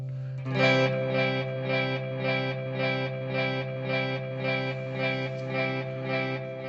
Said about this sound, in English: which is a delay reverb combination